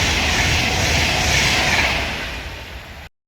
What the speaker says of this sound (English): behind the camera now is class 710, number 710-272 coming in towards Euston